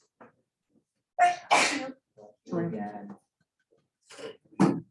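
A single sharp sneeze stands out between bits of classroom chatter, with a second quick burst near the end.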